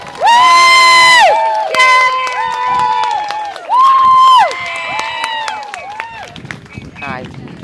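Loud, close cheering and whooping from an outdoor crowd at Speakers' Corner, sustained shouts rising and falling before fading into scattered voices.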